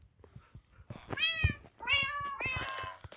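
A pet cat gives three drawn-out meows in a row, close and clear in an otherwise quiet room.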